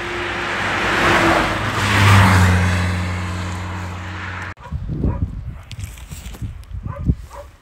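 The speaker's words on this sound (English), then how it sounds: "Vehicle, a taxi this time I think." A taxi approaches with a rising engine roar and rushes past close by on a village road, then the noise cuts to quieter rustling and scattered handling sounds.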